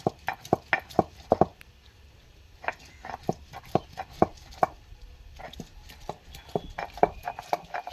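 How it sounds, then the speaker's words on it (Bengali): Garam masala spices being ground on a stone by hand, giving a series of sharp, close knocks and scrapes in an uneven rhythm, loud and unaccompanied by speech. "গরম মশলা বেটে নিচ্ছে"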